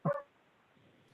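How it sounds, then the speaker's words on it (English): A dog gives one quick, faint double bark from somewhere in a quiet room during a school committee meeting, followed by near silence. "That's my dog. I apologize."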